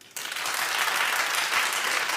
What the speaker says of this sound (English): Clap if you think she should suffer.